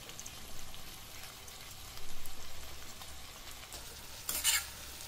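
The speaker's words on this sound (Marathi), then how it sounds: "कापलेल्या भाज्या घालूया." Chopped vegetables sizzle and crackle in hot oil while being sautéed for sambar, a soft steady frying hiss with occasional stirring scrapes and a short louder burst of sizzling near the end.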